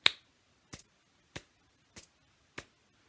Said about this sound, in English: This is a bit more of kind of a forwards moving clap.